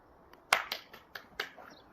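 Several sharp hand claps, one louder burst followed by a few quicker claps, close and alone, from a child throwing a ball up, spinning and clapping before catching it during a coordination exercise.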